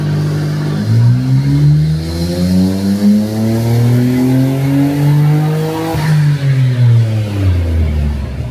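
A Nissan R34 GTR engine on a dyno revs hard through a loud, rising pull for several seconds, briefly dips as if shifting, then climbs again before easing off, with no talking.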